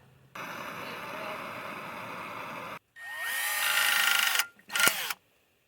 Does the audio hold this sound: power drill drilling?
yes